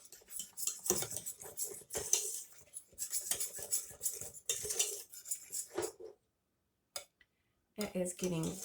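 A spoon scrapes and clinks steadily against a pot while stirring thick blueberry cream pie filling, the rhythmic strokes continuing for several seconds before briefly pausing and resuming.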